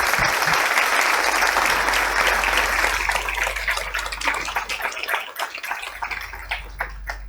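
Audience applause at a university academic event, a dense sustained clatter of many hands that stays loud at first, then gradually thins and loosens toward the end.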